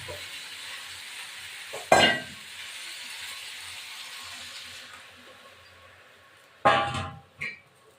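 Water poured into a hot frying pan of fish curry with potato and cauliflower gives two sudden loud splashing hisses against a low background sizzle, with a clink of utensils.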